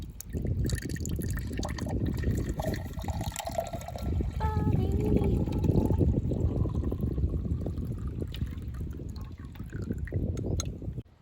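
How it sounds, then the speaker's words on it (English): Water pours and trickles into a container for several seconds, a close, gurgling stream with some background noise. "So here right now I'm going to pour the water."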